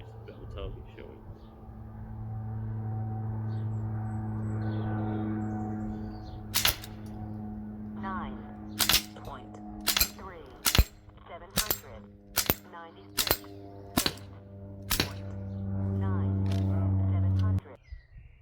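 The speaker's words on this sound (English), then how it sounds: "we just shot two 5-round groups" A Sig MCX Rattler PCP air rifle firing BSA Greenstar pellets at a 20 m target: about ten sharp, distinct cracks spaced a second or so apart, with a steady low motor-like hum around them and talk before the shooting.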